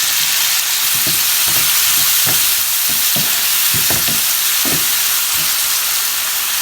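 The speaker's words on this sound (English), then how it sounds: "we're gonna let this saute just for a few minutes until onions is soft" Chopped onion and a medium tomato sizzling in a hot pan for a Kathiyawadi dish, a steady close frying hiss with intermittent soft stirring scrapes and clatter throughout.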